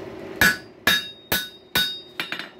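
Five sharp hammer blows ring out on a hot steel rail spike over an anvil at a forge, evenly spaced and close, with the last strikes lighter and quicker.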